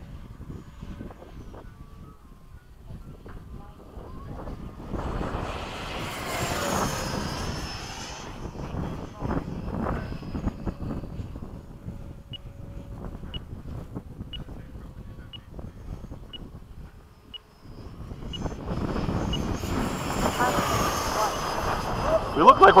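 F-4 and F/A-18 jets flying in formation at LFE roar past in two loud surges, with engine rumble and wind noise between passes and brief voices over a radio-like background.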